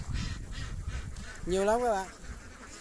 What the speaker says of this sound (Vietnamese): Hôm nay mình cùng các bạn đi tham quan trại vịt